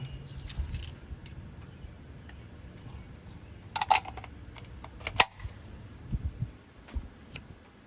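Metal clicks and rattles from a magazine being pulled out of a No5 MkI rifle, a few sharp close clinks spread across a quiet background.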